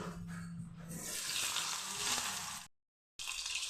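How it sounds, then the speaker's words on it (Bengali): Cut potatoes frying in oil in a wok, a continuous close hiss of sizzling that swells, drops out into a brief silence, then returns. "কড়াতে তেল দিয়ে দিয়েছি এখন আলুগুলি ভেজে নিচ্ছি"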